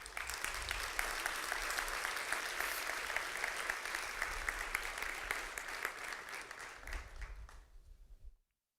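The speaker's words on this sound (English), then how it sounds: "Let's all give him another round of applause" An audience at a tech conference talk applauds steadily, dense even clapping heard from a distance, thinning slightly toward the end before stopping abruptly.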